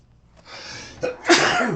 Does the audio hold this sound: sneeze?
yes